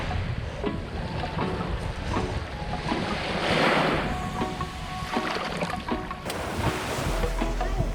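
Ocean waves at a beach, a steady broadband wash of surf with a swell near the middle, mixed with wind noise and faint background sounds, continuous throughout.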